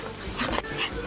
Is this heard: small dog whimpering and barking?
yes